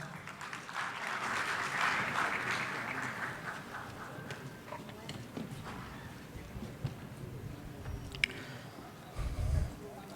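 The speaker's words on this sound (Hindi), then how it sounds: "आप सभी की जोरदार तालियों के साथ।" Applause from an audience at a cultural ceremony in Ayodhya, held by the Uttar Pradesh culture department and the Shri Ram Janmabhoomi trust. It swells early and then thins into scattered clapping under background murmur, ending with a few louder thumps.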